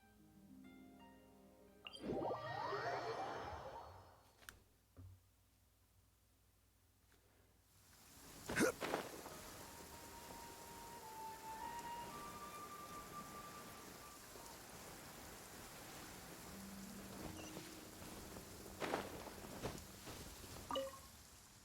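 Rain patters steadily in the video game Genshin Impact, a soft continuous wash with a few brighter effect sounds and faint tones over it.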